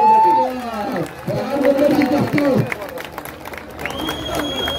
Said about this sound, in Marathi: दोघांसाठी टाळ्या वाजवा. सगळ्यांनी टाळ्या वाजवा